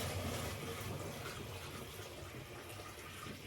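Water poured out for a pet pig on a farm, a steady soft splashing flow at low volume without pauses.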